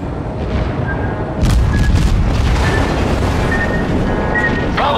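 An enemy cruiser blowing up in a naval battle game, a heavy boom that swells into a sustained roaring rumble, loud and close, with faint game tones over it.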